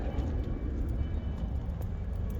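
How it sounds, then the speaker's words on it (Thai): A low, steady engine rumble drones continuously, a broad roar of an airplane flying overhead unseen in thick fog, constant throughout with no voices. "เสียงเครื่องบิน เสียงเครื่องบินพี่น้อง แต่มองไม่เห็นเพราะหมอกเยอะเนี่ย"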